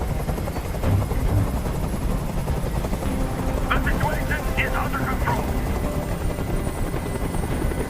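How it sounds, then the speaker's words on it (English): Helicopter hovering overhead in the video game Detroit: Become Human, a steady loud low rotor thrum running throughout under a voice speaking. "I can't stand that noise anymore. Tell that helicopter to get out of here."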